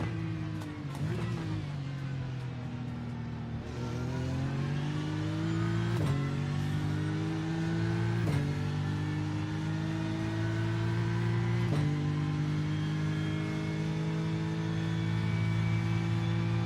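A Porsche GT3 race car engine in the iRacing sim on track at Sebring or Bathurst, loud and continuous, revving up through each gear then dropping sharply at shifts, with a faint voice now and then.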